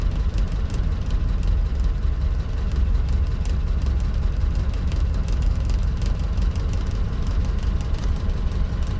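A 1935 Ford engine idles steadily in a dense, constant low rumble that never changes pace, loud and close, with no voices over it.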